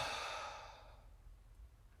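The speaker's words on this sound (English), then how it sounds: "Full exhalation through the mouth." A full mouth exhalation during a yoga breathing exercise: one long, breathy outbreath that starts strong and slowly fades over about two seconds, close and alone with no talking.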